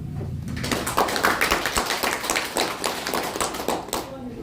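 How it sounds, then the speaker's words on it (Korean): Audience clapping fills a campaign office opening event for an independent candidate in Yongsan, a dense patter of hands with faint voices mixed in. "큰 박수 부탁드립니다."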